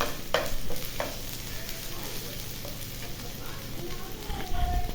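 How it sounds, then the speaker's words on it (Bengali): Ginger and garlic frying in hot oil for a bitter-gourd dal: a close, steady sizzle with occasional scraping stirs and light clinks, no speech over it. "এখন আদা রসুনটা ভেজে নিতেছি"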